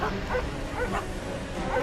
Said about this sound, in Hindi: तभी मुझे कॉटेज के बाहर कई सारे कुत्तों के भौंकने और रोने की आवाज़ सुनाई